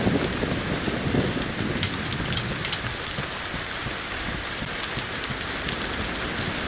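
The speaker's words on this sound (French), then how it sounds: "il pleut, je vais aller m'abriter dans un bat." Heavy rain in the video game DayZ pours down steadily, a dense, even hiss of drops with no voices or other sounds.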